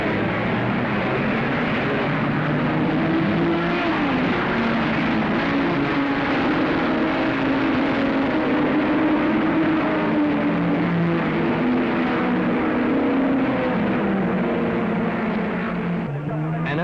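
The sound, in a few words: racing cars starting a race, Aston Martin leading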